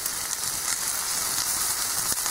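Onions fry on a small homemade stove outdoors, giving a steady, fairly quiet crackling sizzle with no talk over it.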